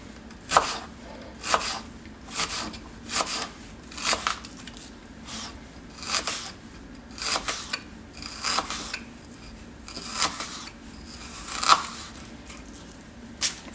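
A knife slicing through an onion on a cutting board, close and fairly quiet, with regular crisp cuts about once a second.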